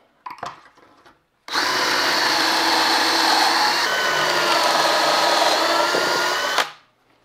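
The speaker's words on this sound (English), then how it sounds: "Now all that's left is to put some pocket hole screws." A power drill drives pocket hole screws into a mobile workshop workbench cube, a loud continuous whir lasting about five seconds after a brief bit of handling noise, with no speech.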